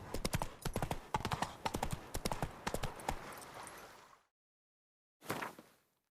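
Roach, the horse in The Witcher 3 video game, gallops with quick, rhythmic clip-clop hoofbeats for about four seconds, then falls silent before one more short burst of hooves.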